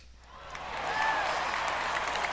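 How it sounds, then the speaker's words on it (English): Football stadium crowd in Cleveland cheering a running play, a broad roar that swells over the first second and then holds steady and loud, with faint whistle-like tones riding on top. "Crowd likes this run by Jim Brown."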